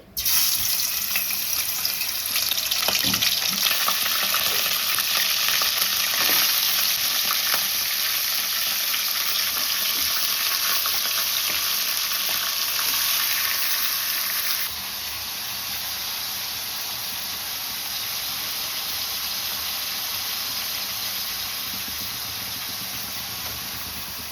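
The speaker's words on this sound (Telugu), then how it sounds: "నూనె అయితే వేడైంది ఫ్రెండ్స్ ఇప్పుడైతే చికెన్ అయితే వేసుకోవాలి" Chicken for a Telugu chicken fry sizzles loudly in hot oil, a steady broadband hiss lasting throughout that drops slightly in intensity partway through, with no talking.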